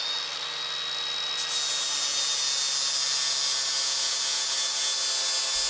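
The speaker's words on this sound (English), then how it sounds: "So I'm going to rough grind it with an angle grinder" Angle grinder rough grinding a hand-forged cross peen hammer, a loud, steady high-pitched whine that rises sharply after a second as the disc bites into the steel and continues unbroken.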